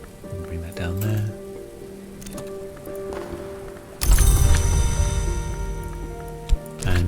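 Steady rain in the video game Book of Hours, a dense hiss of rain on a surface that swells suddenly to a loud, full downpour partway through, with game music tones around it.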